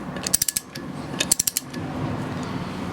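A ratchet wrench tightens the front disc wheel bearing hub nut on an MGA 1600, making two quick runs of sharp metallic clicks close by, followed by a low rumble of handling.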